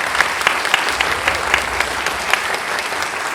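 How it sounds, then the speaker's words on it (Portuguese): An audience gives a professor a round of applause after a lecture, a loud, steady wash of many hands clapping close by, with no talk over it. "por favor, uma salva de palmas para ele"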